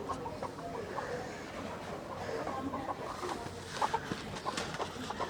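Farm chickens clucking softly while being fed, a quiet, continuous murmur of clucks with a few slightly louder calls toward the end.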